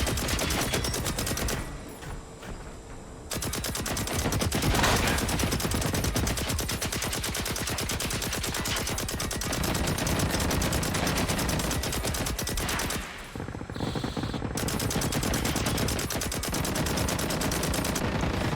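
Sustained automatic fire from the N60 machine gun in the video game Generation Zero, loud dense bursts running almost continuously with two short pauses, no talk.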